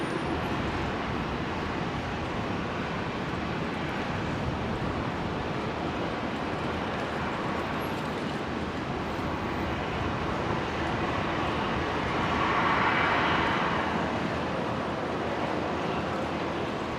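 An airliner takes off from runway 19 left at Brisbane Airport, a steady, loud broadband jet roar that holds throughout and swells briefly toward the end.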